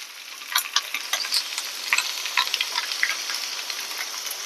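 Mustard seeds and small shallots fry in hot oil for sambar, a steady close sizzle peppered with quick, irregular pops and crackles as the seeds burst.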